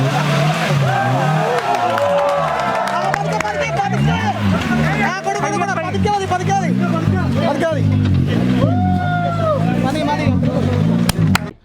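Off-road 4x4 vehicles such as a Thar or Gypsy at an extreme off-road jamboree in Malappuram, Kerala, roar with loud, revving engines that climb and fall in pitch, while a crowd babbles throughout.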